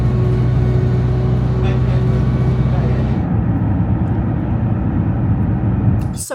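Constant loud rumble and road noise inside a moving crowded bus, with engine drone and a change in tone midway as it drives on.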